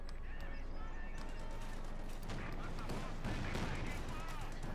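A Jackson tank destroyer fires in Company of Heroes 2 amid a busy World War II battle, heavy gun reports and explosions layered with other combat noise while a commentator talks over it.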